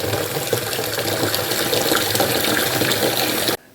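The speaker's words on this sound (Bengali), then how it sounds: "এই বালতিতে জল ভরে রাখছি।" Tap water gushes steadily into a bucket, a loud close continuous splashing rush that stops abruptly near the end.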